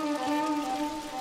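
Steady rain falls in Ghost of Tsushima, a continuous wash of patter heard alongside a sustained tonal drone, fairly loud and without talking.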